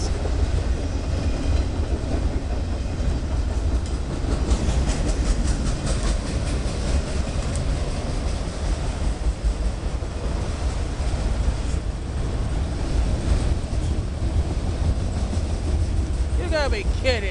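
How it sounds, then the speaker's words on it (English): A short freight rack train on Pan Am Railways rolls steadily past close by, heavy rumble and rhythmic clickety-clack of wagons on the rails filling the whole stretch at even loudness. "Short friggin' rack train."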